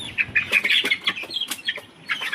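White chicks with clipped wings chirp in a quick series of high, thin peeps with short gaps between them, close by and with no talking.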